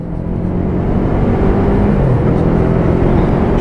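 A Yamaha MT-03 motorcycle is ridden at speed through the upper gears, its engine a loud, constant rumble mixed with steady wind rush from start to finish.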